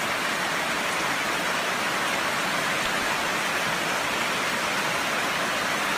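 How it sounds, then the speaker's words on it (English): Steady rain pours down in a jungle during army training, a dense even hiss filling the scene without pause and with no voices. "it's raining."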